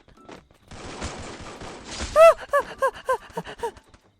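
Gunfire in the mobile battle-royale game Free Fire: a burst of sharp shots followed by a series of spaced, ringing impacts, fairly close and loud, with no talk over them.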